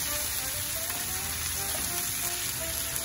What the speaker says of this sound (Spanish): agregamos el resto de los vegetales. Y los integramos con la cebolla